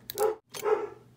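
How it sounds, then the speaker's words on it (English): A dog barks twice in the background during a Shimano 2019 Stradic FL reel upgrade, two short, fairly loud barks separated by a brief pause, with no speech over them. "Excuse my dog barking in the background."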